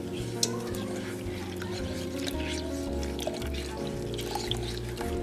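Milk trickles slowly into a flour mixture for a Southern pie filling, a steady soft pour with faint drips running the whole stretch over low background hum.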